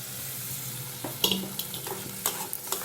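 A paste of dried red chilli, green chilli, tomato and melon seed being stirred in a hot pan, soft sizzling with several sharp spatula scrapes and knocks against the metal, close and fairly quiet.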